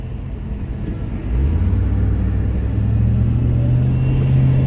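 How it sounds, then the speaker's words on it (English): Truck on the road heard from inside a 1993 Range Rover Classic, a low engine rumble that swells abruptly and stays loud and steady as it draws near, with no talk. "truck coming up."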